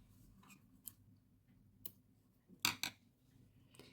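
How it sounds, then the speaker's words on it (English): Scissors snip through crochet yarn in a few quick, close cuts, a cluster of two sharp snips standing out among fainter clicks in an otherwise quiet room. "And then cut your yarn."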